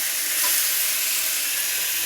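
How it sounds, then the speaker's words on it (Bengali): Potato pieces fry in a pan as the first step of a tomato dish, making a steady, close sizzling hiss that continues without pause and with no talk. "আলুটা একটু ভেজে নিতে হবে আগে।"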